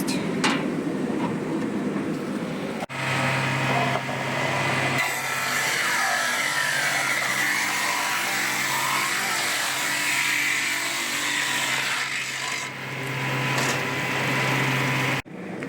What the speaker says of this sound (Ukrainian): Далі розрізаємо ось його на такому станочку.